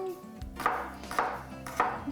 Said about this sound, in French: je vais hacher la gousse d'ail que j'ai aujourd'hui